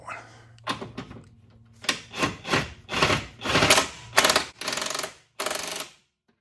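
A wrench or ratchet cranking on the control arm bolts of a Subaru Outback, a run of close, separate metallic bursts with pauses between them and no talk.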